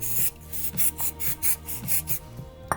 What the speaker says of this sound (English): Just spray it in.